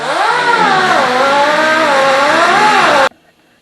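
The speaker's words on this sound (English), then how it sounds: "we'll just take our grinder and get in here and trim it back" An angle grinder trims back the edge of a car's right fender, its loud, close whine holding steady while the pitch dips and rises as it bites, then cutting off abruptly near the end.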